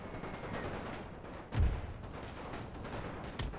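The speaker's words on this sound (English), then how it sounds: "And why is there artillery shots here?" Artillery fires in a World War I strategy video game, two muffled booms heard over a constant low rumble of battle.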